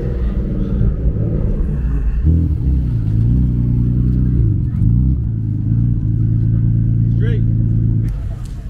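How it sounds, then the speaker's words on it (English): Cars rolling into a car show, a deep engine rumble with shifting revs and idling close by that runs throughout, with people talking over it. "A bunch of cars are still rolling in"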